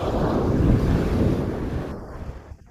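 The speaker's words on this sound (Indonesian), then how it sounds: "Ombak hari ini teman-teman cukup tinggi." High sea waves at the shore where people fish from the beach, heard as a loud, rushing surf roar with wind buffeting the microphone that fades out near the end.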